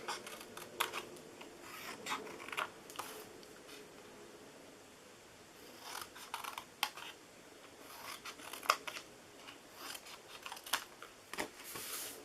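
Paper cut with scissors in quick, quiet crisp snips and rustles, a close steady series of sharp short cuts with small pauses, no talking over it.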